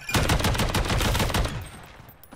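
Loud sustained full-auto fire from an MCW 6.8 rifle in Call of Duty Modern Warfare 3 zombies mode, a dense rapid stream of shots lasting over a second, then trailing off into a fading tail.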